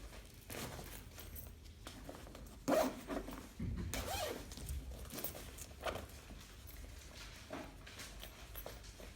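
Zipper on a Mutsy Igo stroller footmuff being opened and closed, a few close scraping zip pulls with soft fabric handling and rustling between them, no talking.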